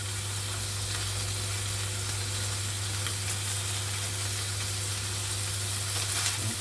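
Veal and courgette browning in a frying pan give off a steady, close sizzle with a constant low hum underneath. The frying noise continues unbroken throughout, and nobody speaks.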